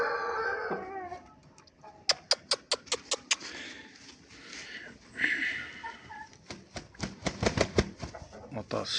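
Rooster crowing mixed with rapid runs of sharp, evenly spaced clucks or pecking taps in two bursts, with some background voices on a farm.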